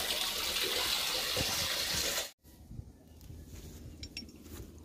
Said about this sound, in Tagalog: Inubos ko muna yung tubig sa tangke.